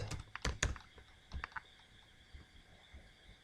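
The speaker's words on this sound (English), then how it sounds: "I'm going to type here, this is test message" Typing on a computer keyboard while entering a short test message: a few quick clustered keystrokes near the start, another small burst around the middle, then faint scattered taps in a quiet room.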